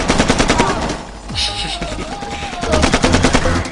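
Rapid machine-gun bursts during a big firefight in Shellshock 2, loud and rhythmic, pausing briefly midway before resuming, with music and other game sounds underneath.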